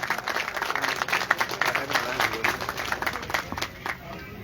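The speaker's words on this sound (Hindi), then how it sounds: "भरपूर तालियों में इस्तकबाल करेंगे।" A crowd claps to welcome musicians of a qawwali party onto the stage at a Rasm-e-Ustadi Shagirdi ceremony, with brisk, overlapping applause and crowd murmur that gradually tapers off.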